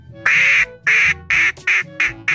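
Loud duck quacks played from a soundboard in Garry's Mod DarkRP, six sharp nasal quacks in an uneven rapid sequence, close and clear with no talking.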